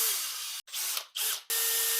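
A power drill bores holes into a fire starter tube, a loud, whining buzz cut into short bursts by brief stops.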